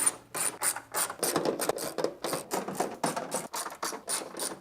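A hand ratchet loosens bolts on a car hood during the teardown of a VK56 engine bay, giving repeated close, raspy clicking strokes in quick rhythmic bursts with no talking.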